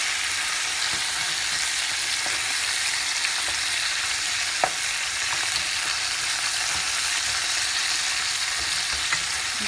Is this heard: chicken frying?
yes